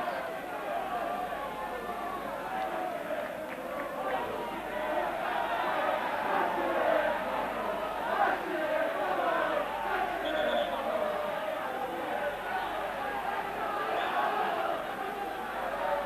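A shirt-sleeve crowd at a Falkirk v Rangers football match makes a steady murmuring roar with scattered shouts throughout, while a commentator talks over it.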